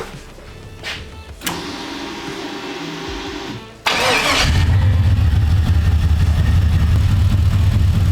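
An LS-swapped Jeep Comanche engine cranks with a sharp whirring starter burst, catches, and settles into a loud, steady idle, preceded by a few clicks and a low electric whir nearby.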